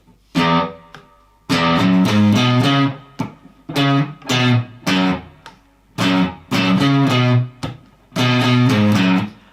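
A distorted electric guitar plays the chunky main riff of a song in short bursts with brief gaps between phrases, loud and close.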